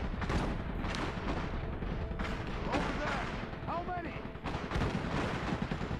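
Heavy gunfire and blasts pound a bunker in the strategy game Iron Harvest, dense rumbling shots and explosions throughout, with faint whistling effects and some talk underneath.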